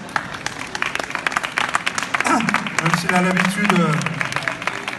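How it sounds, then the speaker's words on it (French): Scattered audience clapping in a hall at a Paris food event, close sharp claps rising into a fuller round while a voice talks over it and a low tonal sound enters midway. "Je vous demande de l'applaudir pour l'encourager"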